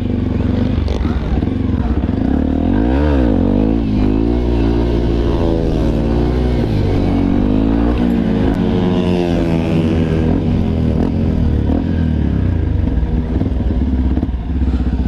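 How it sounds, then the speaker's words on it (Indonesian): A Yamaha WR 155 supermoto motorcycle rides along with its single-cylinder engine revving up and down, loud and close with wind buffeting and occasional clatter, while a rider's voice is faintly audible beneath it. "ini gua lagi nyobain motornya si Padil sekalian kameranya"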